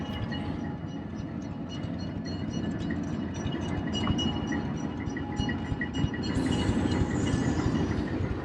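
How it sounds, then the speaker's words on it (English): A train rolls past at steady volume, a low rumbling drone with faint rhythmic clatter of wheels, growing slightly brighter and noisier toward the end. "we purposely set up knowing that this train was going to go by right now"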